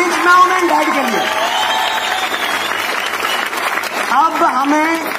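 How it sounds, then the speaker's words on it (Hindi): An audience at a DXN motivational seminar gives loud, sustained applause and cheering, while a strong voice or music carries over the clapping throughout. "गिव ए बिग एंड जोरदार तालियां रिच मॉम एंड डैड के लिए"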